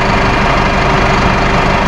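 A Massey Ferguson 5S.145 Deluxe mid-range tractor with Dyna6 transmission runs with a loud, close, steady diesel rumble and no break.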